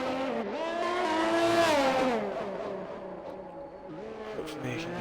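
A race car laps the Monaco circuit in a racing video game, its engine whining loud and close, rising in pitch, then dropping as it brakes and turning back into a steady drone, with faint tyre scrub.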